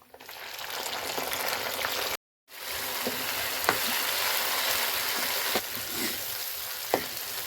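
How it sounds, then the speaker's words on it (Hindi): Tomatoes fry in a pan for chana dal, a loud, continuous close sizzle with a brief drop-out and a few faint spoon clinks. "अब टमाटरों को अच्छी तरह से भून लेंगे"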